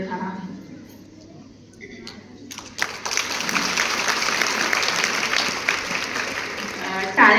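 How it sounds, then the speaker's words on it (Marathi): An audience at a women's workshop bursts into sustained applause after a few seconds of speech, with dense clapping that continues steadily and fairly close for about four seconds before a voice returns. "टाळ्या वाजवल्या म्हटल्यावर संपू की पुढे म्हणू?"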